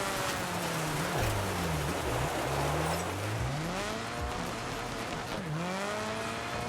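Rally car engine revving and shifting continuously in Dirt 5, with rising and falling pitch sweeps as it drifts on a dirt track, tyres scrabbling and squealing under steady loud gravel noise, no talk.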